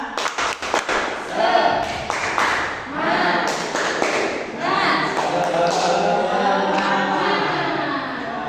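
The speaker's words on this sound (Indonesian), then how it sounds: "kita tepuk semangat dulu ya, bareng-bareng supaya belajar semangat" A class of children at an Indonesian primary school claps a rhythmic spirit-clapping pattern in unison, sharp taps in short bursts, mixed with voices chanting along in a room.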